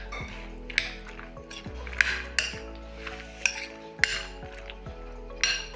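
Macaroni and egg mixture cooking in a pan for a breakfast dish, with repeated metallic clinks and scrapes of a utensil against the pan at an uneven rhythm, close up and with no talking.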